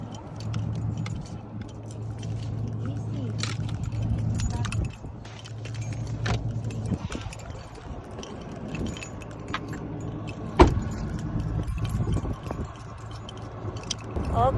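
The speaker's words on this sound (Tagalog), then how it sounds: "I'm driving with my Ford truck" Ford F-150 pickup truck driving, a steady low engine and road rumble running throughout with a few light rattles and one sharp knock inside the cab.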